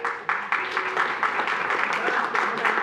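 An audience at a city commission meeting claps in a steady burst of applause lasting a few seconds, moderately loud in an indoor hall with faint voices underneath.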